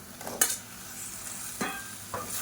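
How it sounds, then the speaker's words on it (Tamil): Half a kilo of chicken being stirred and sautéed in a tomato masala, a soft steady sizzle punctuated by a few sharp clacks and scrapes of a spoon against the pan, close and quiet. "சேர்த்து நல்லா வதக்கிக்கலாம்"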